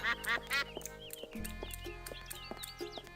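A duck in a LucasArts video game quacks three times in quick succession, loud and close, then gives way to quieter game sounds and scattered electronic chirps.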